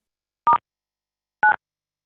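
Two short keypad DTMF tones, spaced about a second apart, as a phone-in caller dials star 6 to unmute during a city council meeting; clear and isolated, with no talking.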